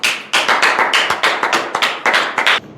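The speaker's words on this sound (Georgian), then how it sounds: "ტაში მეგობრებო." A short burst of clapping from a small group, sharp and close, ending abruptly after a couple of seconds.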